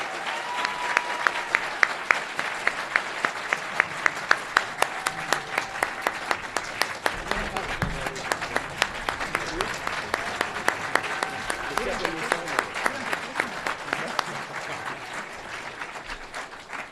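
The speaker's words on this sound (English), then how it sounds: "Can we have a round of applause for our final judges?" Sustained applause from a sizable audience at a law school moot court competition final, dense steady clapping that holds for the whole stretch before tapering slightly at the end.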